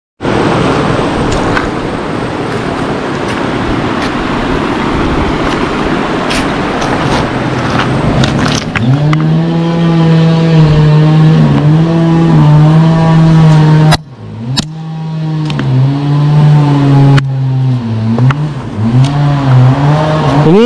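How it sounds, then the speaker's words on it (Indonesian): A wood-cutting machine runs close by outdoors; broad rough noise gives way to a loud, steady motor drone that rises and dips in pitch with a brief cut-out partway through. "Itu di sana sedang ada yang motongin kayu."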